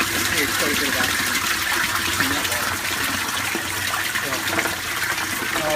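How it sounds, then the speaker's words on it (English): Water cascades through a sieve filter in an aquaponics dual loop system and splashes into the bottom, producing a continuous steady gushing rush close by, with a voice talking over it. "as the water cascades down into the bottom of it, it creates quite a bit of oxygen"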